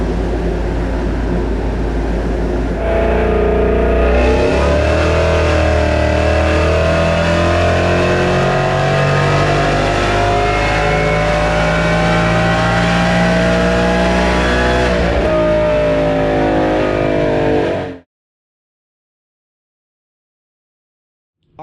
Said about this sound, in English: put my car on the dyno to kind of compare the two